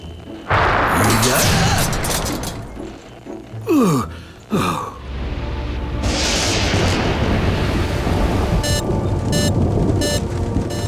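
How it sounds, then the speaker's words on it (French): Deep booming rumbles of cartoon thunder roll in several bursts, mixed with gasps and short vocal sounds. "Et le tonnerre, est-ce qu'on va encore l'entendre?"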